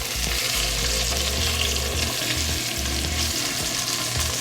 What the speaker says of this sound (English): we're just gonna let that cook for another couple of minutes, get a good sear.